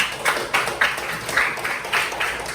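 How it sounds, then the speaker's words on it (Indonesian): Students in a classroom clap together in a short round of applause, the bursts of claps rising and falling unevenly for a couple of seconds. "sekali lagi tepuk tangan dulu semuanya."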